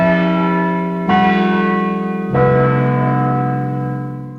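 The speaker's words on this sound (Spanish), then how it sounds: "repicaban campanas" Church bells ring loudly, with a few distinct strikes whose long, humming tones overlap and sustain.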